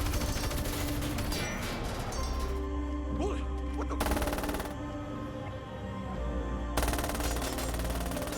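Gunfire in a film scene where a robber shoots a man named Patrick from behind, sharp loud shots and crashing impacts over a busy soundtrack, with talk running through parts of it.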